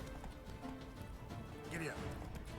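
Hooves clip-clop rhythmically as a horse gallops in the video game Moon Castle Guardians, a quick steady beat at moderate volume under game sounds and a brief whinny-like tone.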